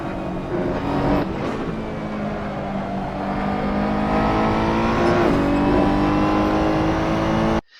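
Ferrari 488 GTE race car engine in Assetto Corsa, steady loud throttle with shifting harmonic engine tones through chicanes, continuous and close, cutting off abruptly at the end.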